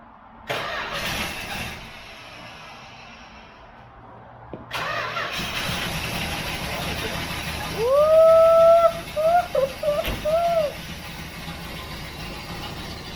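Engine of a 1968 Plymouth Fury on its first start cranks, then catches and runs loud and close, with a high whistling squeal on top that rises and wavers before the idle settles.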